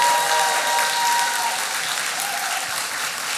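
A church congregation applauding at a New Year's Eve to New Year's Day service, sustained dense clapping that stays loud and steady, then thins slightly toward the end.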